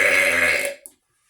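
A single long, loud, close burp after drinking soda, resonant and drawn out before cutting off, followed by a brief small click and silence.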